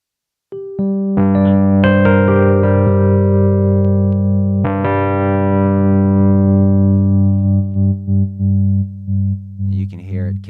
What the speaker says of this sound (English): So here's a Rhodes with a little bit of tremolo.